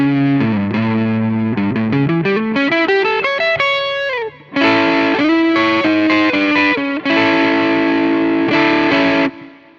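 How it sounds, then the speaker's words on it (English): Electric guitar played through a Tweed Drive pedal into a clean amp for light bluesy breakup, sounding as a run of mildly overdriven notes and chords, loud and close, with brief pauses between phrases. "I'm going to turn on the tweed drive for a light bluesy breakup."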